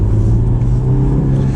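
Honda S2000 convertible sports car on the move, a close, steady low engine drone with road rumble that holds even throughout.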